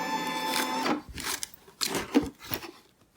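An embroidery machine stitches a large nutcracker appliqué, buzzing steadily for about a second, then advancing a few stitches in short separate bursts with quiet pauses between, close by.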